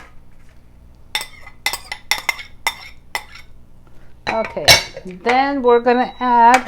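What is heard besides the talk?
pot of quinoa for dinner clinking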